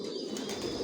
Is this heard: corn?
no